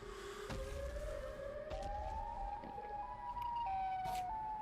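Siren Head's rising siren-like wail in a Minecraft animation, climbing slowly in pitch and holding, heard faintly over a low background rumble with a few sharp clicks.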